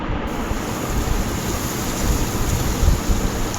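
Dried fish fries in oil with turmeric, giving a dense, continuous sizzle that rises and falls slightly in loudness throughout, with no talking.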